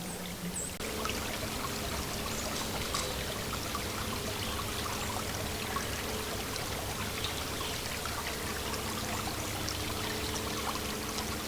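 A small stream near Long Lake flows steadily, a soft continuous trickle and pour of water heard alone at moderate distance, with no voices.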